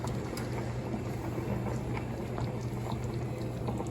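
A pot of pasta water boils on a home stove, making a steady bubbling, rumbling hiss with small pops, close and even throughout without speech.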